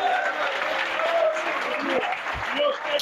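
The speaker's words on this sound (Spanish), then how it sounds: "Un aplauso al Señor" Congregation applause at a church mission convention in Toulouse, a steady crowd clapping heard together with voices and sustained tones from the hall.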